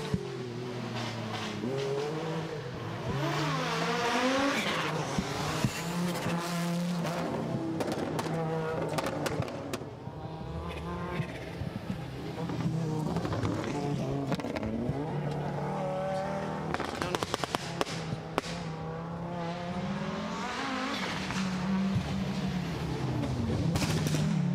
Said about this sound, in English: Continuing to watch here then as a plethora of Audis make their way through.